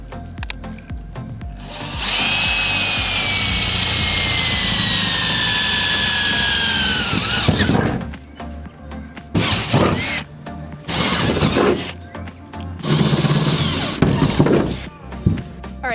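A power drill bores holes into the metal roof of a school bus converted into a skoolie. A sustained whining drill run lasts about six seconds, followed by shorter bursts of drilling, clunks and handling noise.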